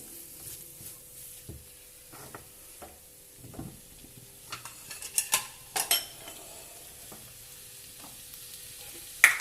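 Faint sizzling of chicken in a pan with occasional scrapes and clinks of a utensil stirring, quiet and close, growing a bit busier toward the end.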